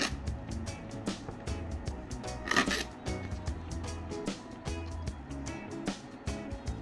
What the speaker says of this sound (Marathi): या प्रकारे ह्या शेंगाच्या शिरा व्यवस्थितरित्या ओढून काढून घ्यायच्या